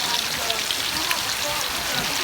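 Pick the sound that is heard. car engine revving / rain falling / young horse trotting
rain falling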